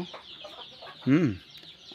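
On a poultry farm keeping desi chickens, a single short cluck rises out of a quiet background, with faint sounds before and after.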